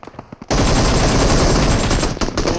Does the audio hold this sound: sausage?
no